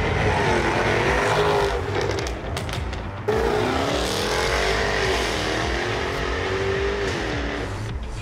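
Jaguar F-Type V8 S from 2014 accelerating hard, its loud V8 engine roaring and revving continuously, with a brief gear-change dip partway through before the roar climbs again.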